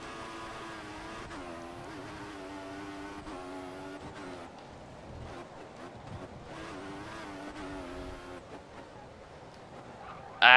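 A Formula One car in F1 2014 screams through gear changes with its engine whining up and down, broken by short tire squeals and slides, loud and continuous.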